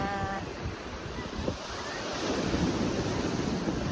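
Ocean waves rolling onto a beach at a state park campground on Long Island, New York, with strong wind buffeting the microphone, a steady roaring wash that swells slightly toward the end, with a faint voice briefly at the start.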